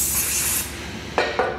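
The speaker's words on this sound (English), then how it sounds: "Next thing we're gonna do is grab a little carburetor spray on a paper towel" Carburetor cleaner hisses from an aerosol can onto a paper towel while a Chevrolet 454 big block engine is being built. One long steady spray is followed by two short bursts, all close and clear.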